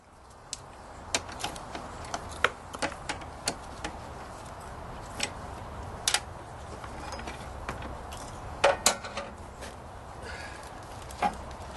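Fuel tank being removed from a Tecumseh 5.5 hp snowblower engine, a series of sharp metallic clicks and knocks with short pauses between, close and moderately loud over a steady background hiss.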